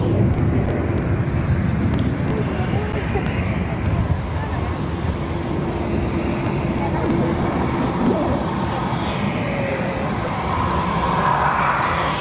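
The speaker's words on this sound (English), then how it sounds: "And right now KLM off to Amsterdam" A KLM airliner departing Barcelona airport produces a loud, sustained jet-engine roar that stays broad and steady, shifting slowly in tone as the aircraft climbs away.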